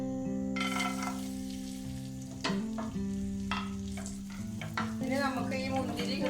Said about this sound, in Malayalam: പിന്നെ ഞാൻ അതിലേക്ക് ഈ മുന്തിരിയും കൂടി ഇട്ട് കൊടുക്കട്ടെ.